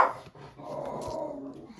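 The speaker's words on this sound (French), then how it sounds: "mon chien entend beaucoup plus les chiens qui aboient" Dog indoors barking and growling toward other dogs heard through an open window, a quick yip followed by a low, drawn-out grumbling growl, fairly faint and close.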